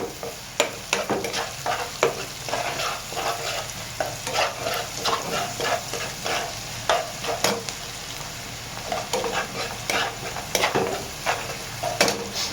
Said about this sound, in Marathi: आणि आता आपण पहिलं मीठ. मिठामुळे कांदा जरा व्यवस्थित शेकून होईल, म्हणजे चांगला शिजेल.